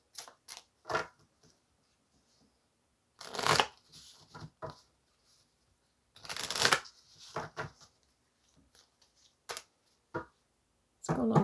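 Tarot cards being shuffled in several separate bursts of crisp riffling and slapping, close and fairly loud, with quiet gaps between bursts and no talking.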